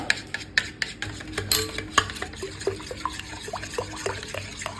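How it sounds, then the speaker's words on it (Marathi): A bread pudding mixture flavoured with vanilla essence or cardamom powder is whisked in a bowl, a close run of quick rhythmic clinks and taps of utensil on the container with a wet, liquid swish between strokes. "आता हे मिश्रण अगदी फेटून घ्यायचं"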